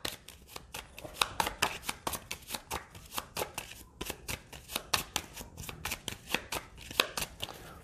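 Cards being shuffled for the Pathfinder Adventure Card Game, a rapid series of crisp riffling and tapping bursts in an uneven rhythm, close and fairly quiet, with no voice.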